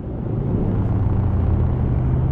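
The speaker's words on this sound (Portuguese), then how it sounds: "É som do tráfego aí real tá funcionando." Road traffic in Euro Truck Simulator 2 (beta 1.40) gives a loud, continuous low rumble of engines and tires that holds steady throughout with no pauses.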